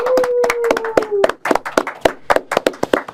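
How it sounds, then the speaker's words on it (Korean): A small group in a Korean political interview studio claps together, with sharp, irregular hand claps that start under a fading voice and continue as a short burst of close, loud applause. "우리가 큰 박수 한번 드릴 테니까 제작진도 같이 한번 박수 한번 드리겠습니다"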